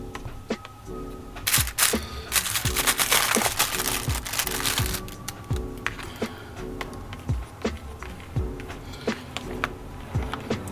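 A spoon stirs Saffron Road butter chicken in its plastic tray, giving irregular close scraping, crinkling and tapping strokes, some louder bursts, with no talking.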